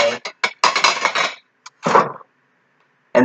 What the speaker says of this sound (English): So after you do the glasses, then you do the silverware.